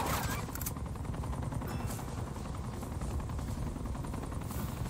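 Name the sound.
helicopter with gunfire in Uncharted 2 video game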